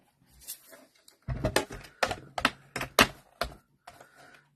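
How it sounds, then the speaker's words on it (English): Paper being die cut for a sled craft, a run of sharp clicking, clattering bursts in quick succession, close and fairly loud, with brief pauses between them. "All right, so I'm going to die cut this one."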